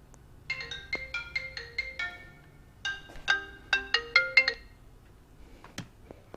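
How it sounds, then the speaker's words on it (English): A phone ringtone plays a bright, melodic electronic tune in two clear phrases of repeated notes, close and fairly quiet, set against a low hum in a garage during a Honda Goldwing GL1800 trunk light installation. "My phone always rings every time I motovlog."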